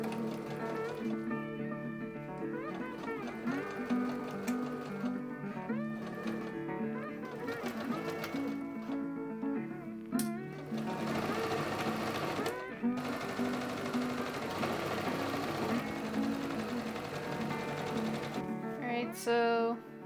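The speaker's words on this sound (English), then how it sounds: "It's time to start sewing." Household sewing machine stitching cheerleading dress pieces, a rapid mechanical whir in repeated bursts with short pauses between runs, fairly close.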